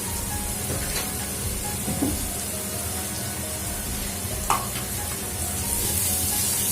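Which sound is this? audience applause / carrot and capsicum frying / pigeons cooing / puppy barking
carrot and capsicum frying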